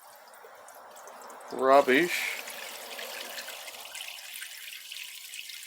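Transmission cooler flush fluid pours slowly into a wash tray, a brief gurgling splash that trails off into a faint trickle, with someone talking over it.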